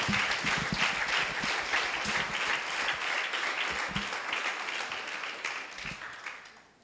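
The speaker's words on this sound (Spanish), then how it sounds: "Denle un aplauso a Jesús" A church congregation applauds together, a dense, sustained wash of clapping that holds steady and then tapers off toward the end, with a few faint voices mixed in.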